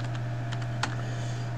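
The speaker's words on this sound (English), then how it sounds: "typing sudo before the command I'm gonna type right now" Keys clack on a computer keyboard as a command is typed at a Linux terminal, a few quick scattered keystrokes over a steady electrical hum, with one sharper tap standing out.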